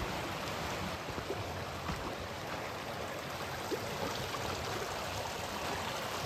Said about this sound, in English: So that's the stream there that takes you to Cooper Canyon Falls.